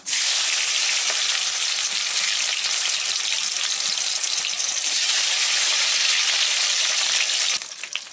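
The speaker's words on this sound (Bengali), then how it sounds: "টমেটো দিয়েছি, তেলটা ছিটকে পড়ে যাচ্ছে" Tomatoes drop into hot mustard oil tempered with garam masala, cloves, cardamom, cinnamon, bay leaf and dried chilli, setting off a loud, steady, close spattering sizzle that holds for several seconds before easing slightly at the end.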